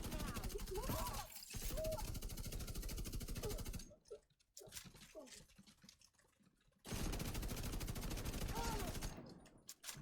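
Sustained bursts of light machine gun fire in the shooter game The Division 2, loud and rapid, broken by a short lull with scattered shots and game sounds.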